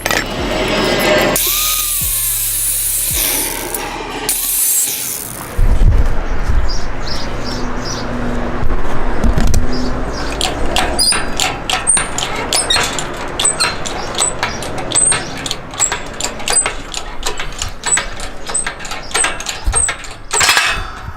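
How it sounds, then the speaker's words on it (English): An Evo wheel hub is pressed out for a 5-lug conversion, with loud mechanical grinding and a low rumble at first, then a long run of rapid metallic clicks and ticks from the press. "I'm gonna press this out, make sure everything's the same collar height this side"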